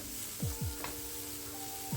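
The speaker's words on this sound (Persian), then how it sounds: "این مواد دیگه آماده است که من سر تابه رو بر میدارم و یه هم میزنم" Ingredients sizzle steadily in a frying pan after its lid is lifted, with a few quick scraping strokes of stirring cutting through the quiet, constant crackle.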